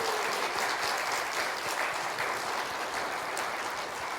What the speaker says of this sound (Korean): 성가대에게도 박수 한번 부탁드리겠습니다